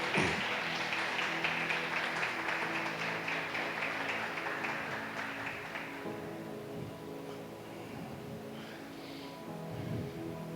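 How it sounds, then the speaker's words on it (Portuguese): Church congregation applauding during a communion service, a dense wash of clapping that is strongest at first and thins out over the last seconds, with faint sustained music underneath. "uma salva de palmas para Jesus"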